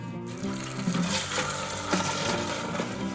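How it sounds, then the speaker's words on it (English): Water poured into the tube of a water level can, a steady close pouring and gurgling stream lasting a few seconds, heard alone. "Fill it with water, like this."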